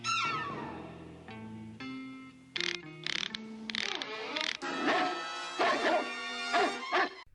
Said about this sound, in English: the hooded man does get them with the classic dog barking